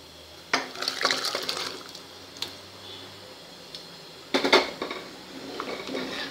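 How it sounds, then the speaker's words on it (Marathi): Cooked vegetables poured with their water into a sambar pot, heard as two bursts of clanking metal vessels and utensils with some sloshing between them, close and fairly loud, with no voices. "ह्या पाण्यासकट अशाच त्यात ओतायच्या आहे सगळ्या भाज्या"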